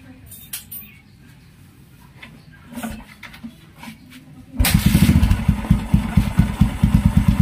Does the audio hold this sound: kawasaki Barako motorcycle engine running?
yes